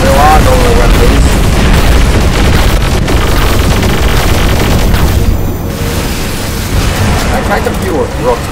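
A robot self-destructing in the War Robots game gives a loud booming explosion with deep rumbling and scattered blasts under a voice, easing slightly in the last few seconds.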